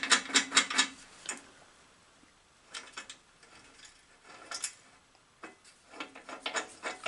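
Wheel shaft on a dolly built for an Atlas 7B shaper, spun by hand at the bottom, giving several short bursts of metallic clicking and rattling with quiet gaps between spins.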